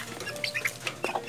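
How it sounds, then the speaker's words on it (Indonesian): One-month-old chicks cluck close by in short, soft bursts, with a few quick chirpy calls. "Nah, ini ayamnya."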